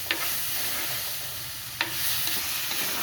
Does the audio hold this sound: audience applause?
no